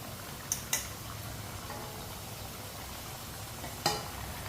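A spoon stirs turnips and chicken in a cooking pot over a steady sizzle, with a few sharp clinks of metal against the pot.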